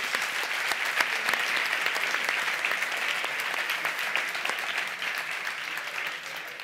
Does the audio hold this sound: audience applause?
yes